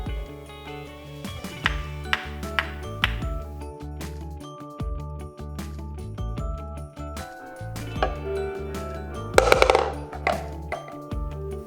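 Hollow wooden knocks and clattering drops as wooden balls fall into a wooden drop box, in bursts, some in quick clusters, over a steady background of sustained musical tones.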